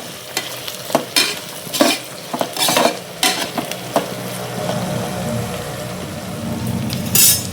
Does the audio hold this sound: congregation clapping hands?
no